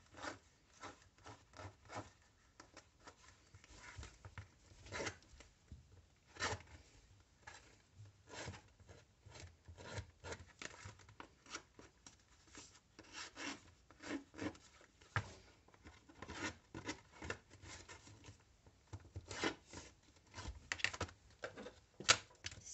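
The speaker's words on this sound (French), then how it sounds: "je prends mon distresseur comme ça et je vais venir distresser mes bords" A distresser tool scrapes along paper edges of an art journal page in a long run of soft, quiet rasping and rubbing strokes, irregular and close, with no talk.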